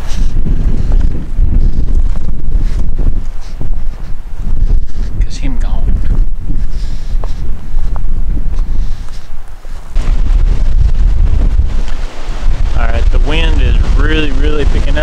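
Heavy wind roars and batters the microphone in an open field almost nonstop, loud and rumbling, with a short dip before gusts surge back even harder.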